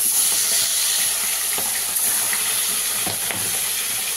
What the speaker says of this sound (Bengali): হয়ে গেছে আমার তেল গরম, দিয়ে দিচ্ছি এক এক করে মাছগুলো